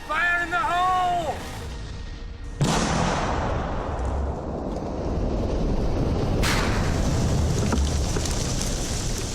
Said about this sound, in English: When enough have been recovered, they're blown up with modern-day explosives.